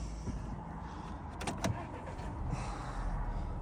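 A 2012 Volkswagen B7 with an automatic gearbox idles quietly, giving a low, steady rumble with a couple of brief clicks near the middle and no talking.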